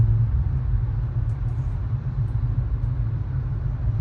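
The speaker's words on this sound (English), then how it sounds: "I'm just gonna accelerate" A Tesla on Autopilot accelerating through Dubai traffic, heard from inside as a low, steady road rumble and muted motor hum with no distinct rise in pitch.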